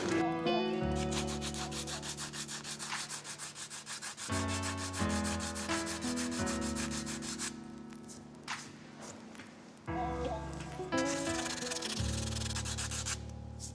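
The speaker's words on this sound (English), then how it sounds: "I'm just going to use a little flexible sanding block here just to put a little bit of pressure" Steady rubbing and scraping of a flexible sanding block worked back and forth against curb-rashed damage on a wheel rim, continuous with short pauses, close up and alone.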